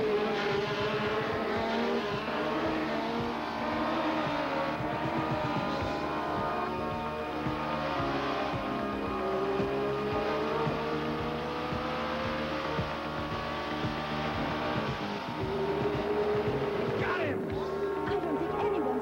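A race car engine in an old anime revs hard and steadily, its pitch rising and falling as it accelerates through gears, loud and continuous with a brief tire squeal near the end.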